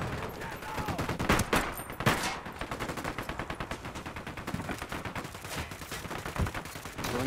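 Rapid automatic gunfire rattles through a Ghost Recon Wildlands firefight in long, steady bursts with a few heavier single shots, loud and continuous, while game voices and effects sit underneath.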